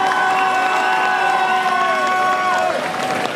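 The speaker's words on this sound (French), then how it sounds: "Et ça, je pense qu'on peut bien l'applaudir pour ça." A cosplay contest crowd at HeroFestival Marseille applauds and cheers a jury member, a loud, dense wash with sustained whoops and shouted tones on top.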